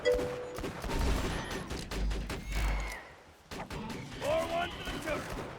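Rapid turret gunfire in a video game, dense bursts of shots and impacts rattling throughout, with game sound effects over it and a person talking at times.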